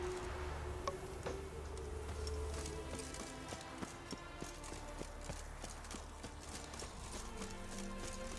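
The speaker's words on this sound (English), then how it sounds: "Look at that horse" Horse hooves clip-clop at an even, steady pace in The Witcher 3 video game, under a constant hum of ambient game sound.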